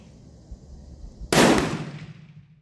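A single loud, sharp gunshot from an Italian Vetterli Model 1870 centerfire carbine, fired while shooting groups over a chronograph, cracks out halfway through after quiet background and decays over about a second.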